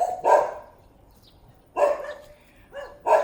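Small dogs yapping nearby in short, sharp barks, three or four separate bursts spaced irregularly over a few seconds, with no one talking.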